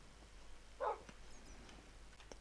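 A Minecraft dog gives a single short, faint bark over a quiet, steady background, with a few soft ticks after it.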